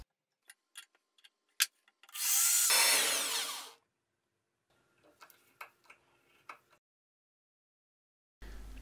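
A single sustained drilling burst of about a second and a half into an old Soviet drill press quill, surrounded by sparse ticks and clicks of metal handling in an otherwise quiet space.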